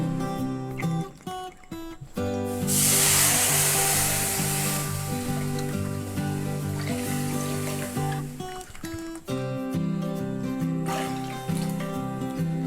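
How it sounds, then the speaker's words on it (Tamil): Three cups of water poured into a pan for rava kesari, a steady rushing hiss of a few seconds over continuous background music. "3 கப் தண்ணி ஊற்றிட்டோம்."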